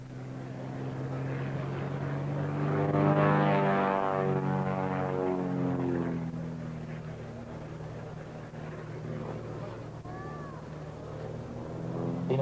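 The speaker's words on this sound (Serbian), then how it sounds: "služeći kao avion za obuku u osnovnim akrobacijama pitomaca ratnog vazduhoplovstva" A propeller-driven aerobatic training aircraft at the Batajnica air show, 1998, drones past with a rising and then falling pitch, loudest near the middle as it passes over, then fades into distant engine hum.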